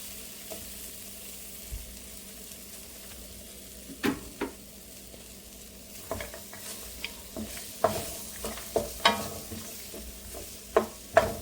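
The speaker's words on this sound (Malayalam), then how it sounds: "ആദ്യം നമ്മൾ ഈ ഏത്തപ്പഴം അതുപോലെ നട്ട്സും ഒന്ന് ഡ്രൈ ആക്കി എടുക്കുകയാണ് ചെയ്യുന്നത് ഒന്ന് ലൈറ്റായിട്ട് വറുത്തെടുക്കുക ചെയ്യുന്നത്" Plantain pieces and nuts are lightly dry-roasting in a pan, a soft steady sizzle broken by scattered scraping and stirring knocks that grow more frequent toward the end.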